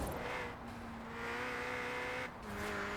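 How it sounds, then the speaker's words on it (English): A Ford Puma racing car engine in Forza Horizon 4 drones loudly and steadily, its pitch shifting between gears, with a faint high whistle of a turbo barely audible underneath. "There is turbo noise there, but it isn't very pronounced."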